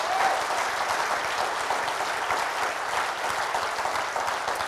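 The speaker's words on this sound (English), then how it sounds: "everybody give the Lord a nice hand clap offering." Church congregation clapping together in a sustained, dense round of applause, steady and fairly close, lasting the whole stretch with no talking.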